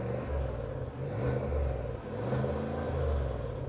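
The 6.2-litre V8 of a Cadillac Escalade revs twice in a row, each swell of engine roar rising and dropping back to idle, a steady rumble throughout at moderate loudness.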